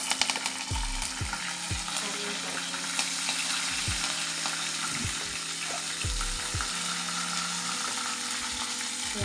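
Chopped onions and spinach sizzling steadily in a hot pan, a dense continuous fry with periodic stirring thumps and scrapes, close and loud.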